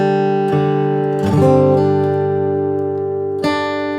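Flatpicked acoustic guitar notes ring out in a quick bluegrass-style run, with a strummed flourish midway, close and clear without talking.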